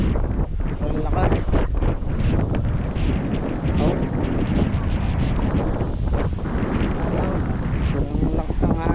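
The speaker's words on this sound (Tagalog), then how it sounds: "Ang lakas ang hangin." Strong wind roars continuously across the microphone throughout, loud and gusty, with people talking underneath at sea or on the water.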